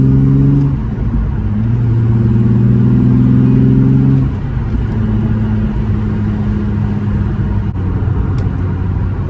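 A Volkswagen Golf 2 with a VR6 engine revs while driving, its loud droning note climbing in pitch, then dropping as it shifts and settling into a steady rumble, near and continuous.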